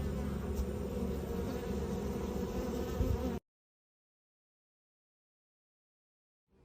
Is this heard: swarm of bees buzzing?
yes